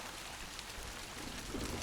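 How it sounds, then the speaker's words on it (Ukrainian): Light rain begins to fall outdoors beside a pond during float-rod fishing for crucian carp, a soft steady hiss of drops on the water's surface with no voices. "Почався дощик."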